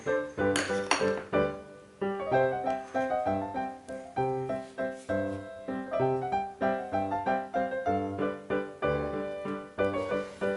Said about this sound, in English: add the strawberry jam into whipped cream and mix it